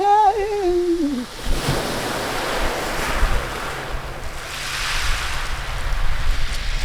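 Ocean surf rolls and crashes in broad, hissing swells with wind rushing across the microphone, steady and fairly loud, after a brief fading musical tone at the start.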